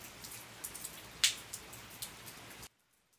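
Rain patters steadily with a few sharper individual drops standing out, then stops abruptly into near silence.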